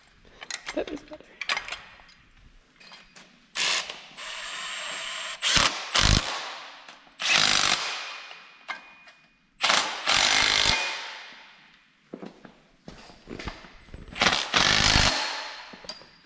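Power tool tightening bolts on a 5.7 Hemi long block before it goes on the engine stand, several short whirring and rattling bursts with pauses between, close and loud, with people talking in between.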